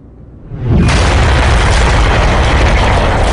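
A bomb detonates in a test aboard a jet airliner, a sudden loud blast that swells into a sustained, roaring wall of broadband noise.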